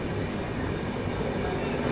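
Superfast express train between Bangalore and Hubballi racing through a station: steady broadband roar of wheels and carriage noise at even loudness throughout, heard from on board with no voices.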